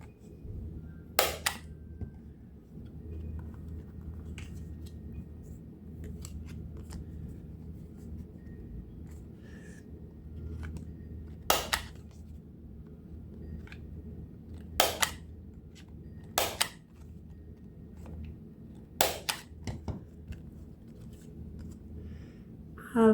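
Corners of a card deck being trimmed with a corner cutter: a few sharp isolated clicks spaced several seconds apart over a quiet room hum.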